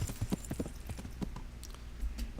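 A horse's hooves clip-clop at a steady walking pace in the video game Kingdom Come: Deliverance, with irregular, fairly faint thuds on the ground.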